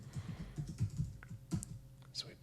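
Computer keyboard keys tapped in a quick run of clicks while entering code, close and fairly soft, with someone talking over them.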